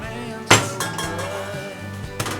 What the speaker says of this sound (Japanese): Meteré la pizza al horno。